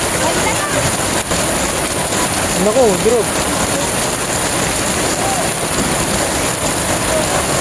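Heavy monsoon rain during a habagat downpour in the Philippines, a steady loud hiss of rainfall filling the whole stretch, with a person speaking briefly over it.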